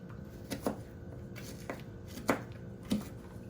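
A knife chops vegetables into chunks for chili, striking a cutting board about six times in uneven, close, crisp thuds against a quiet background.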